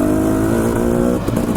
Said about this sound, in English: this that I'm riding right now is a dirt bike